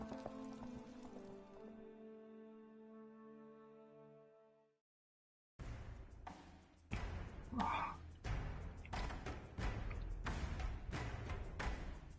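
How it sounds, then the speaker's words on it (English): Horse hooves gallop in The Witcher 3 after a short stretch of fading music and a brief silence, the hoofbeats rapid and rhythmic alongside game ambience. "Grab a horse, we'll chase him down."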